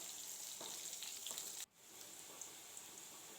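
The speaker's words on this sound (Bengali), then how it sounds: "তবে আলুটা ভাজা করলে খুব ভালো হয়।" Potatoes frying in oil in a pan until lightly reddish, a steady soft sizzle with faint stirring taps, which drops away abruptly partway through and then resumes more quietly.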